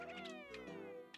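A cat in the Super Mario Eclipse game meows in a drawn-out, wavering call, a single sliding cry that rises and falls, heard alone and fairly clear.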